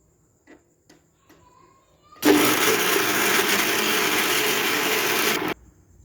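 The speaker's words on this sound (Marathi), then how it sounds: "आता हे मिक्सरमधून पेस्ट करून घ्यायची." A mixer grinder blends peeled garlic into paste for garlic chutney. After a few soft clicks and taps, it roars loud and steady for about three seconds, then stops abruptly.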